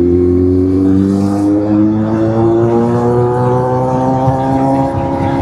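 A car engine revs steadily and loudly close by, its droning pitch climbing gradually throughout with no break.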